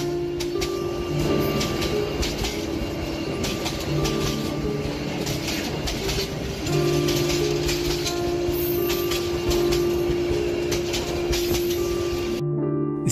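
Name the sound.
train arriving at station, horn, cartoon sound effect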